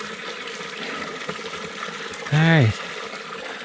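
Clear water flowing on the icy, steep top of Hunter Mountain in the Catskills makes a steady, even rushing wash throughout, with a brief spoken word breaking in near the end.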